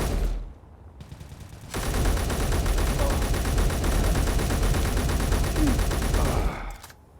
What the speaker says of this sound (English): You've got gunfire.